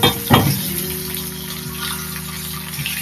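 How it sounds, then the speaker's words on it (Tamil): Spices tempering in hot oil: mustard seeds, dried red chili, ginger, garlic and curry leaves crackle and sizzle in a pan, opening with a couple of splattering bursts before settling into a steady close hiss. "எண்ணெய் காய்ச்சி கடுகு போட்டு ஒரே காஞ்சி மிளகா இஞ்சி பூண்டு கறி கறிவேப்பிலை"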